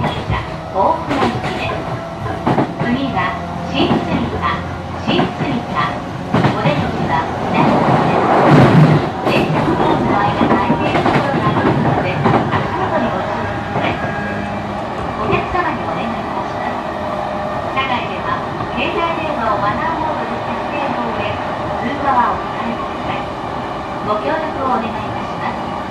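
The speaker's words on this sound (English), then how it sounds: "This is a Keihin Tohoku Negishi Line train for Ohuna." A JR Keihin-Tohoku Negishi Line local train bound for Ofuna runs steadily, heard from inside the car as a continuous rumble with rail clatter and a louder surge midway, under announcements.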